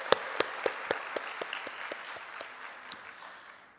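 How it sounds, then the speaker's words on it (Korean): A church congregation gives a short round of thankful applause during a worship service, starting with a few sharp claps that thin out into a scattered, fading patter over a few seconds. "다시 한 번 더 하나님께 감사의 박수"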